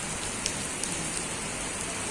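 Heavy rain falls in Qatar as a constant, dense, close hiss of drops striking surfaces, with a few faint ticks and no voices.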